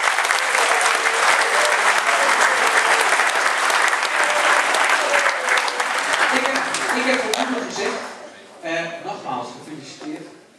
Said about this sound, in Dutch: ook een gigantische applaus voor hun.